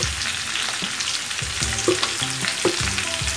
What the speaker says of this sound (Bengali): আমি ভালো করে এই 4টে সবজি আমি ভালো করে ভেজে নিচ্ছি